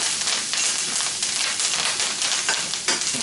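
Cracked peppercorns and fresh thyme leaves sizzle steadily in a hot pan, a loud, continuous crackling fry with brief louder spits near the end, no voices.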